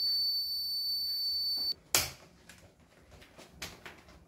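A Kent Grand Plus RO water purifier gives off a sustained high electronic beep tone that cuts off abruptly, followed by a sharp click and scattered handling knocks in a quiet room.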